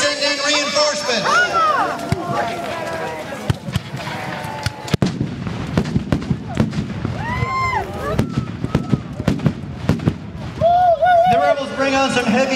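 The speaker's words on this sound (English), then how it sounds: "Bring on some heavy cannon fire." Repeated sharp blasts and cracks of cannon and gunfire ring out irregularly at a Civil War reenactment while a voice talks throughout.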